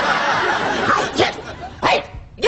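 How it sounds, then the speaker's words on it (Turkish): A dog barks a few times in a garden, sharp loud yelps breaking through close-range talk. "sanırım bahçeye bir köpek girdi."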